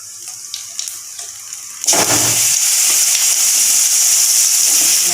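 Mushrooms drop into hot oil in a pan and burst into loud, steady sizzling that continues without a break after a quieter stretch of small clinks.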